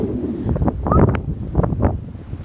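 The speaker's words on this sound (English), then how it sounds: "It is windy." Gusty wind buffets the microphone outdoors beside a portable aluminium mast, with low rumbling bursts that rise and fall over a couple of seconds, with no voices.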